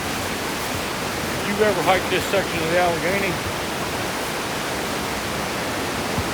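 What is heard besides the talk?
roar of flooded river water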